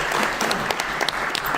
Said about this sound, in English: if we could just give a round of applause to our firefighters for hosting us here at the Fire Academy